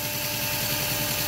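Homemade generator built from a washing machine motor, running with a steady, dense mechanical whirr and buzzing hum at constant level, close up and uninterrupted.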